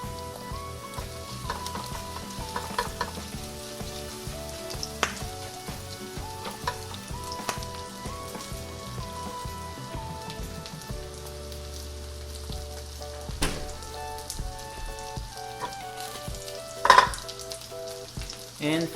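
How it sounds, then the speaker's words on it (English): Vegetables sizzle and fry steadily in vegetable oil in a hot pan over high heat, a dense close crackle running throughout with a few sharper pops, made while preparing a Korean chive pancake. "So when frying pan is heated up, place the vegetables on a frying pan."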